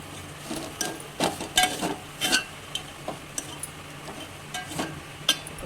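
Ground fresh coconut paste is sautéed in a pan, a low sizzle punctuated by several distinct scraping and clinking strokes of a spatula against the metal, irregular and close.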